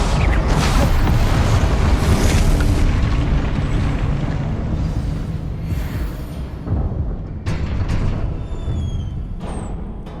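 A Confringo fire spell in the Hogwarts Legacy video game erupts in a loud, sustained boom with heavy low rumble, followed by a few fainter bursts and crackles as the blast fades.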